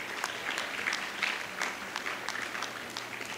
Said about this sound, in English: as you clap lustily